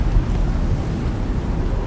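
Steady rain with low rumbling thunder in the survival video game Icarus, a dense, continuous wash of noise heavy in the low end, loud and unbroken with no talk.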